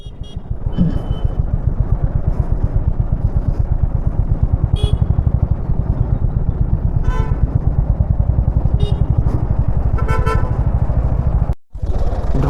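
Dense traffic jam on a rough mountain road from Siliguri toward Mangan in Sikkim, with repeated car and vehicle horns honking close by over a steady rumble of idling and crawling engines.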